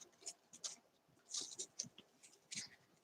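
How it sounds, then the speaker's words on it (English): Scissors cutting a paper napkin into panels at a mixed-media craft table: faint, close snips and crisp paper rustles in short irregular bursts, with quiet pauses between them. "I'm going to cut this one also"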